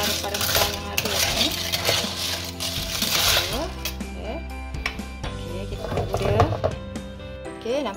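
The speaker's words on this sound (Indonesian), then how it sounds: "Okey, kita gaul-gaul dulu. Ini harus pada rempah yang ada ya." A spoon scrapes and clanks against a cooking pot as snails are stirred into spice paste, metallic knocks and rattling shells repeating irregularly and close, while a person talks over it.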